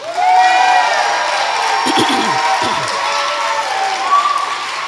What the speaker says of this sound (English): you're all applauding